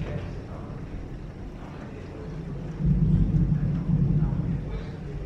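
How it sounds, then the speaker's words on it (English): Thunder from a storm over an outdoor field rolls as a low, loud rumble that swells midway and holds steady for several seconds. "Am I the only one who thinks it's kind of scary with thunder? Can you guys hear that?"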